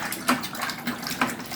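Strawberry Hershey syrup pours into a container in a short, thick, gurgling stream with a few soft glugs, close by and alone.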